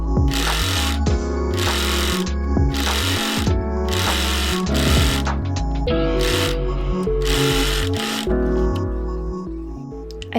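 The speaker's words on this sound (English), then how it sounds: "I'm putting the thread into the sewing machine and then I will start this whole process." A sewing machine runs in several short stitching bursts while sewing a lace shirt. Each burst is a loud, rapid mechanical rattle, separated by brief pauses, with no talking.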